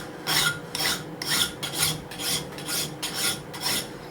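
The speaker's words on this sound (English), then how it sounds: "Most people just take a file and file like this and create a chamfer." A hand file rasps across a metal edge to cut a 45° chamfer. About eight even, rhythmic strokes scrape loudly up close, each a harsh swish with a brief gap between.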